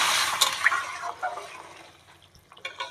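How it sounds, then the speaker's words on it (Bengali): Hot water poured from a vessel into a pot of mung and masoor dal khichdi during village cooking, a splashing, gurgling pour that starts strong and tapers off over a few seconds. "এই যে এবারে আমি জলটা দিয়ে দিলাম।"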